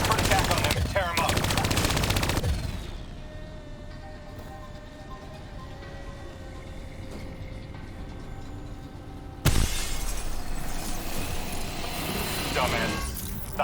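Automatic gunfire from Call of Duty: Black Ops III shooting down bats, with loud rapid bursts at the start and again near the end, and a quieter stretch of tonal hum and game sounds between them.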